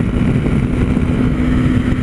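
A Honda Sahara 300 motorcycle accelerates on asphalt, its engine droning loud and steady with a constant low hum close by, no talk over it.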